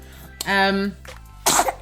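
A small, sharp sneeze bursts out once near the end, following a short voiced cry at close range in a quiet room.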